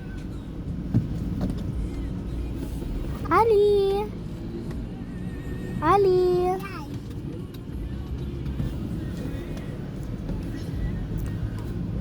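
Road traffic passes outside with a steady low rumble of engines, while a voice calls out twice over it.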